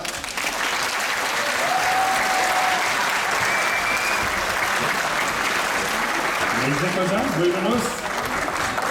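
An audience at a Turkish folk-song final night of an adult education centre applauds steadily as the orchestra is welcomed, with a presenter speaking over the sustained crowd clapping.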